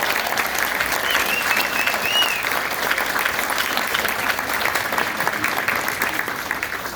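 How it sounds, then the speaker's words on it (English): A crowd at a congresswoman's political rally in Deltona, Florida gives teachers a round of applause. The clapping is steady and full throughout, and a short whistle rises above it partway through. "let's give our teachers a round of applause"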